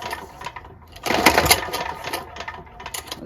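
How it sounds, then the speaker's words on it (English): A Tecumseh HH60 6 HP horizontal-shaft tiller engine with no compression pulled over by its recoil starter, giving one loud close whirring rasp as it freewheels and then a fading spin, with no talking. "Guys, there is no compression. It's just freewheeling."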